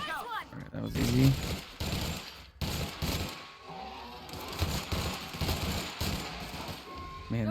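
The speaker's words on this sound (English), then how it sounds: "this machine gun does so much damage" Machine gun fire in The Outer Worlds: sustained rapid bursts broken by short pauses, loud and close, with someone talking over parts of the shooting.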